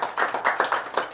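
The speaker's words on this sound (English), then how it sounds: "If we can have a little round of applause for Ann." A small audience gives a brief round of applause for a guest speaker at a bike-law recreation talk; a few seconds of moderate, uneven clapping from a handful of people.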